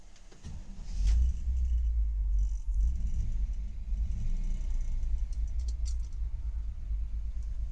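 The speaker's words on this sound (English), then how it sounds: "I'll fire this one up for you." A 1959 Chevrolet Impala's engine cranks and catches, then settles into a loud, steady low idle rumble heard up close, with a light jangle of keys near the start.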